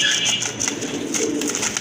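A pigeon held at a market stall coos steadily and fairly close, its throaty calls sitting over a busy, noisy background.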